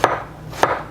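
Big knife slicing ginger very thinly on a board, two crisp chopping taps about half a second apart, close and clear with no talk.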